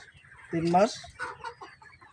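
A single close layer pullet hen, about three months old, gives a short clucking call, followed by softer scattered clucks from pullets nearby in a quiet poultry house holding about 2000 birds.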